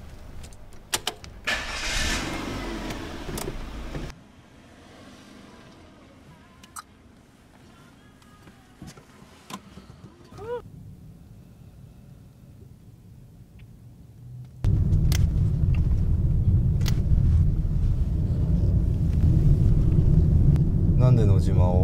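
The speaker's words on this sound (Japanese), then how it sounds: "とりあえず車出そう。" A car engine turns over and then runs steadily as the vehicle pulls away, its loud low rumble taking over after a quieter stretch of faint movement and talk inside the car.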